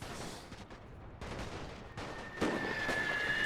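Artillery fire and gunshots from the Napoleon: Total War game, WW1 mod battle, heard as a dense, steady rumble of distant cannon and musketry with a louder volley near the end.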